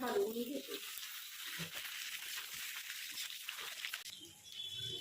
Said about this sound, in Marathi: आणि आता यामध्ये मी हे बटाटे असे टाकून देते तेलामध्ये असे